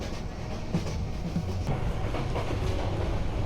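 Parjatak Express passenger train on the Dhaka to Cox's Bazar line rolling along, a steady rumbling rail drone with faint rhythmic clicks of wheels over joints, heard from inside at an even, constant level.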